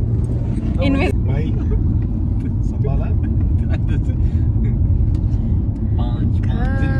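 A car drives off nearby, its low engine rumble steady and loud beneath constant chatter from several people talking over it.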